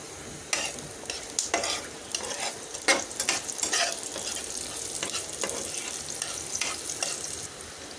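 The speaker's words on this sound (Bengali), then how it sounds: "প্যানের মধ্যে দিয়ে দিয়েছি তেল, দিয়ে দিচ্ছি পেঁয়াজ" Onions frying in hot oil in a pan, with a steady sizzle broken by repeated scraping stirs of a spoon against the pan, close and fairly loud with no voices.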